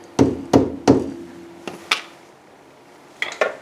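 Three quick dull knocks in a row from a rubber hammer seating a tapered roller wheel bearing, a pause, then a couple more scattered taps, close and fairly loud with metallic ring.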